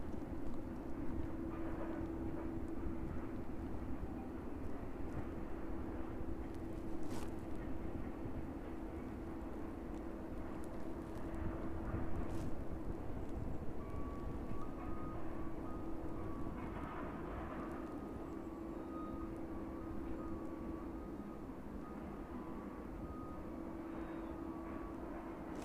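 A distant Etihad Boeing 787, inbound from Abu Dhabi and bound for Manchester, passes overhead East Midlands at about 20,000 feet as a faint, steady airliner drone with a thin tonal whine.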